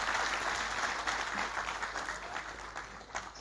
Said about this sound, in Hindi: आप लोग ताली बजाते रहिए